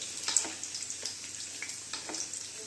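Beaten egg mixture frying in a little oil in a pan, a soft, steady sizzle with faint crackles and pops at moderate distance, no talking.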